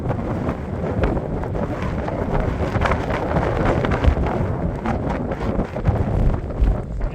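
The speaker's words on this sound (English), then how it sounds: "Can't hear me properly, that'll be the wind." Strong wind on a foggy hillside in the Shropshire Hills buffets the microphone with continuous, loud, rumbling gusts that rise and fall across the whole stretch, with no voices.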